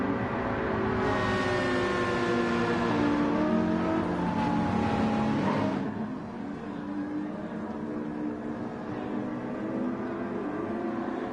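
Gr.3 race cars roll through a formation lap at Suzuka in a racing video game on PlayStation, a steady close engine drone whose pitch rises and falls with revving, thinning slightly after a few seconds.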